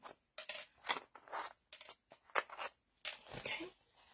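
Scissors snip through paper journal pages being cut down to size for signatures of a three-signature pamphlet-stitched journal, a series of about eight close, crisp cuts in an irregular rhythm with short pauses between them.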